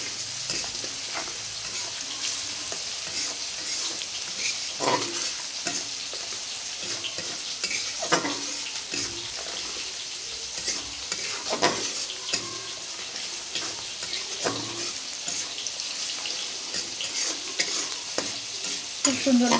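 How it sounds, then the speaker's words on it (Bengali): Goat meat frying with turmeric and salt in a pan, a steady sizzle running throughout with repeated scraping strokes of a spoon stirring, close and continuous, no talking. "খুব সুন্দর ভাজা হয়ে গেছে।"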